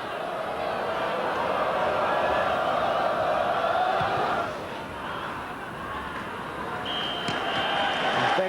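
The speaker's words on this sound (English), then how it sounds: "there goes the half-time whistle, and Middlesbrough totally in control and deserving the applause that's ringing around Ayresome Park" A football crowd at Ayresome Park fills the air with broad, sustained applause and roar during Middlesbrough v Newcastle United in 1991, and a thin referee's half-time whistle sounds near the end.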